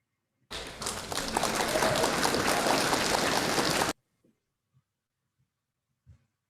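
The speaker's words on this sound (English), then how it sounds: "Can we get an applause for our 2 Zoom functionaries as well?" A burst of clapping from a Toastmasters meeting group lasts a few seconds, then stops abruptly, leaving near silence with a few faint taps.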